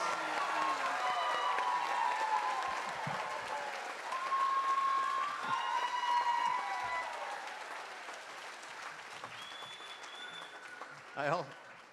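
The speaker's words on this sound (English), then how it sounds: "a round of applause for our graduates" Crowd applause and cheering for graduates at the Kapiʻolani Community College fall commencement, a sustained wash of clapping with whoops and voices rising over it, fairly loud and continuous.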